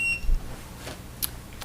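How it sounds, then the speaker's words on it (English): Meeting-room monitors being set up give off a short electronic beep at the start, followed by a few faint clicks and a brief high blip amid quiet room noise. "That's what all the beeping is."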